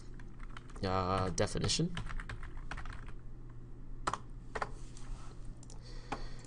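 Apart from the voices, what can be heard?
typing on a computer keyboard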